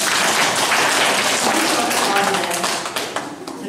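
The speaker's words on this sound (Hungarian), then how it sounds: "Nagyon jó, tapsoljátok meg!" Schoolchildren applauding together at a primary school holiday celebration, a dense, steady wash of claps that holds loud for about three seconds before thinning out toward the end.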